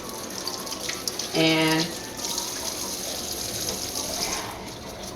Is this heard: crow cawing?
no